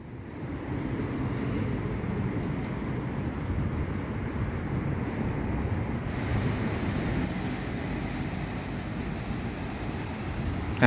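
A train pulls into Taling Chan Junction station in Thailand, a steady, broad rumbling roar that holds for the whole stretch at moderate distance, with no voices over it.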